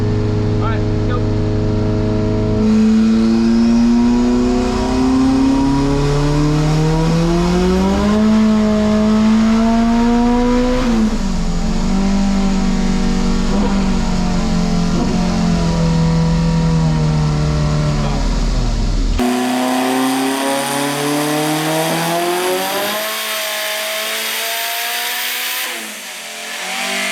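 Tuned car engine with reduced boost revving hard through a strong initial pull, its loud rising and falling engine tone sustained for about twenty seconds before cutting off, then a lighter second rev near the end.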